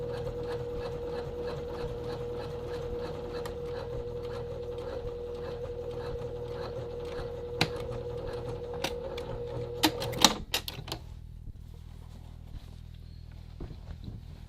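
A sewing machine stitches a double welt pocket on a men's classic vest with a steady, close mechanical whir and rhythmic needle clatter for about ten seconds. It then stops with a few clicks, and a few soft handling taps follow in near silence.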